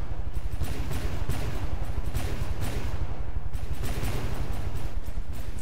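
Rapid, dense cannon turret fire in the naval combat game From The Depths, a continuous loud barrage of overlapping shots with no pauses throughout.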